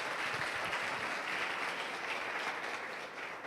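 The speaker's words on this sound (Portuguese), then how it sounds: "Você pode aplaudir o Senhor Jesus por isso?" A church congregation applauds during a sermon, a steady, dense wash of many hands clapping at once that holds evenly and fades slightly at the end.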